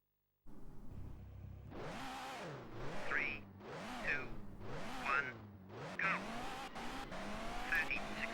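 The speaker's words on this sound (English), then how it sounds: "an extremely overpowered and squirrely car on an extremely slippery track in extremely bad weather" A rally car in Colin McRae Rally 2.0 slides on a slippery track in bad weather, its engine surging up and down in repeated revs while the tires hiss and squeal through the skids.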